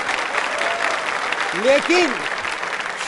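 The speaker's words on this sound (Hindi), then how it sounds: "तो इस जानकारी के लिए भी तालियां बजा दीजिए।" Audience applause at a quiz show, a steady, fairly loud hiss of many hands clapping throughout, with a voice speaking briefly over it.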